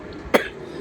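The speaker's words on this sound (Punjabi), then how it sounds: "ਖਾਂਸੀ ਏਡੀ ਭੈੜੀ ਆ ਰਹੀ।" A single short, sharp cough from a man with a sore throat, standing out briefly against quiet background noise with no talk.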